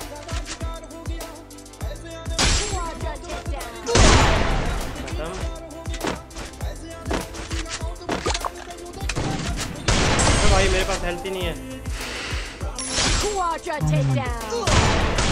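Rapid gunfire from the video game Garena Free Fire, with dense bursts and single sharp shots over layered game effects and music, loud and continuous, while someone talks excitedly over it.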